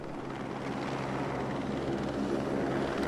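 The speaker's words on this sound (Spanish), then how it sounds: "El puto helicóptero ese." A helicopter in the Batman Arkham City video game gives off a steady, loud rotor and engine roar that holds unbroken for the whole stretch, with no other sounds on top.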